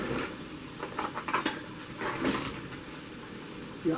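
Metal cutlery clinks and rattles as a spoon is fetched in a home kitchen, a few close, bright jingles and clatters spread over a few seconds with light handling noise between them.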